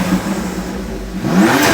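A car engine revs and rises, its intake whooshing with a mid-pitched roar that climbs toward the end, loud and close with no talk.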